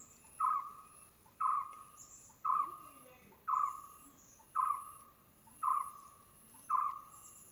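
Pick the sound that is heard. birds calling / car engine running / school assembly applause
birds calling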